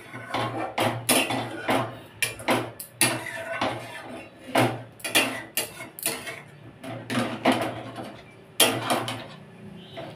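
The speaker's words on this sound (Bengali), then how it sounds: "ভালো করে মশলাটা মিশিয়ে নিলাম, আর কড়াটাকে সোজা করে দিয়ে কড়াই আমি ঢাকা দিয়ে দেবো।" Spices being stirred and mixed into an arum root curry in a kadai, with repeated scraping and clattering strokes of a spoon against the metal wok, close and irregular.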